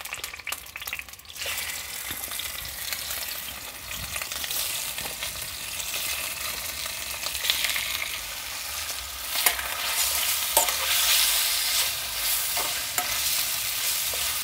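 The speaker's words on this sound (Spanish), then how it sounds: "Mientras está fritando el pollo" Chicken seasoned with salt and pepper fries in hot oil, giving a steady, bright sizzle and crackle that carries on alone throughout, with occasional small pops.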